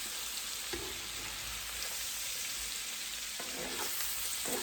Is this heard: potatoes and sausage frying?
yes